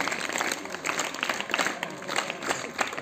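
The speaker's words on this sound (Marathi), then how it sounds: "हिच्यासाठी 3 टाळ्या वाजवा" A group claps to reward a correct answer in a school setting. The applause is a fairly quiet, scattered patter of many hands that runs steadily and is not clearly counted out in beats.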